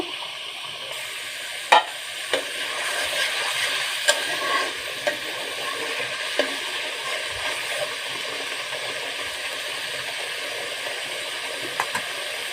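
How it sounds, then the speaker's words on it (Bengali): Onion and coriander leaf paste for a pangas fish curry sautés in a pan, a steady soft sizzle broken by occasional scraping knocks of the spoon against the pan, close by and with no talking. "পেঁয়াজ আর ধনে পাতা পেস্ট করে রেখেছিলাম সেটি ইউজ করছি কিছুক্ষণ কষিয়ে নেব"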